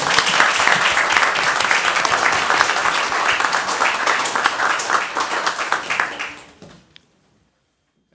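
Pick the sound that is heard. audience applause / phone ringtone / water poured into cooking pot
audience applause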